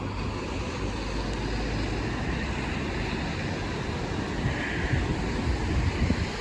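Steady wind rushing and buffeting against the microphone outdoors beside an old fire station museum in Scotland, a constant broadband roar with low rumble and no talking.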